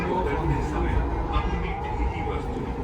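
Delhi Metro train running with a steady low rumble and rail hum, people talking over it throughout.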